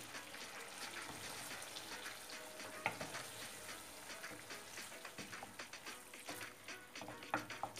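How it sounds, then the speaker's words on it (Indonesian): Spaghetti being stirred with tomato sauce in a hot pan, a steady close-up sizzle with wet sloppy stirring scrapes and occasional clacks of the utensil. "Setelah itu kasih tomat ya. Oke, aduk rata."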